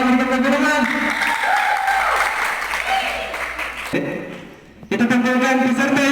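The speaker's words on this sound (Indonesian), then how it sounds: "Sekali lagi berikan tepuk tangan." An audience applauds a contestant at a seminary preaching competition, loud clapping mixed with crowd noise and voices that fades, drops out briefly, and then returns over sustained tonal sound.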